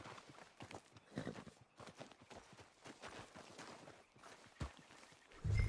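A horse walks along in Red Dead Redemption 2, its hooves clip-clopping in a steady, fairly quiet rhythm over soft ambient game sound.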